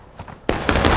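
Musket volley in the Civil War game War of Rights, a quiet lead-in followed by a sudden loud ragged crack of many shots that swells into a second burst and rolling echo.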